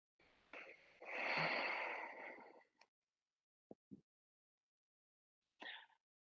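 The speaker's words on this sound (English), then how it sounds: "And breathe." During a gentle upper-back yoga stretch, one long, soft breath rushes out for about two seconds, followed by a few faint clicks and a brief breathy puff in otherwise quiet surroundings.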